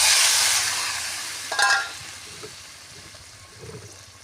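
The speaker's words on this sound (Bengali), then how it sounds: "এবারে পরিমাণ মতন জল দেবো" Water poured into a pan of well-fried sizzling masala bursts into a loud rushing hiss that fades to a softer bubbling simmer, with a few stirring scrapes.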